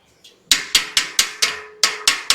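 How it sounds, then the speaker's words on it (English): Small hammer striking metal shelf parts as they are locked into place during assembly, seven sharp, ringing taps at a steady, quick rhythm, close and loud with no talking. "And I use small hammer for that."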